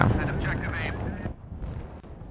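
A loud, rumbling blast from an explosion in the World War II shooter Battlefield V opens the clip and fades into quieter battlefield noise, with a voice speaking over it.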